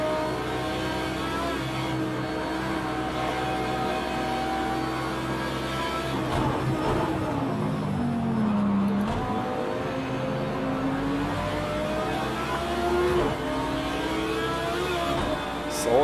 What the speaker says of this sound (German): Ein Bentley GT3, der uns da hier an dieser gefährlichen Stelle überholen will.